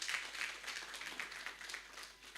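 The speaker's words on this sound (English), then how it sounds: "a round of applause" A round of applause from an audience at an HR forum in Uganda, heard as a faint, steady patter of many hands clapping for about two and a half seconds, distant and without voices.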